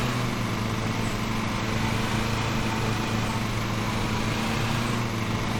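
A lawn mower engine in the Lawn Mower Simulator video game drones continuously at a steady, loud, buzzing idle, unchanging throughout with no speech over it.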